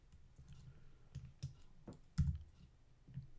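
A few soft key presses on a computer keyboard while entering an amount in Photoshop, heard as sparse, close, faint clicks with gaps in between.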